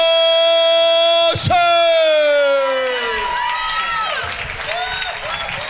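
Audience applause and cheering at a comedy show as comedian Rodney "The Preacher's Son" Johnson is introduced. A loud held vocal tone and a sharp hit come first, then crowd cheers and clapping swell and carry on.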